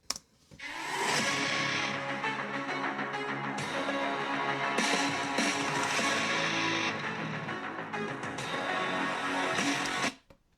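ThinkPad X1 Carbon Gen 14 laptop playing music through its downward-firing speakers at half volume, a full, steady mix running continuously for about ten seconds with brief dips, no talking.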